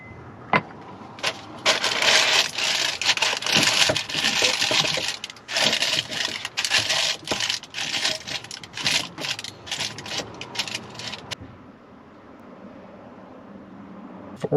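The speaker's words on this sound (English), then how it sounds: "then place the water and rice." Dry rice grains and water are poured into a ceramic rice cooker pot at a campsite, giving a dense, close-up rattling patter that runs for about ten seconds before it thins out and falls quiet.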